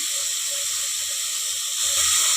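Soaked black-eyed peas fry in a pan with a steady, bright sizzle throughout, while soft low knocks recur at a regular pace, like stirring against the pan, and the hiss swells slightly near the end.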